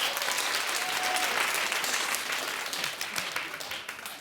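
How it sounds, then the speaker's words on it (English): A television talk show studio audience claps loudly and steadily throughout, a dense roar of applause that tapers slightly toward the end. "Clap if you find him gorgeous."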